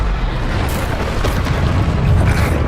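Bombarda explosion spell from Hogwarts Legacy, a loud heavy boom with a rumbling low body and a couple of crackling bursts across a short stretch, no voices.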